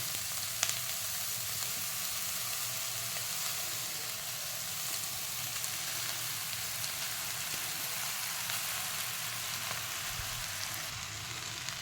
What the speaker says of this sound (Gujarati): હવે આપણે રાઈસ એડ કરી દઈશું અંદર.